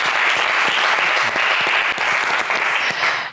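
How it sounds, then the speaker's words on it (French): A game show studio audience applauds a contestant, producing a dense, loud, steady burst of clapping on its own that tapers off at the very end. "Allez, on applaudit Patrick"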